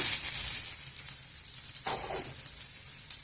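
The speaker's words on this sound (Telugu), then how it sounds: "కొన్ని ధనియాలు కొంచెం వేయించుకున్నాము" Coriander seeds, cumin and green chillies fry in a pan of oil for a yellow cucumber chutney, giving a steady close sizzle with a brief louder stirring burst midway.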